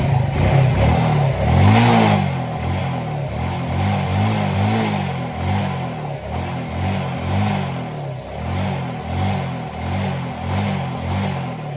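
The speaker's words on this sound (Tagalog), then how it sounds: "Try natin i-rev." A car engine revs up repeatedly in a steady series of rising and falling pulses, loud and close, after an initial stronger rev, with no talking.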